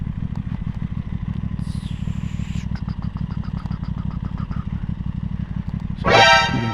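Engines rumble and putter steadily as small motor scooters idle and roll by, with a brief horn toot near the end.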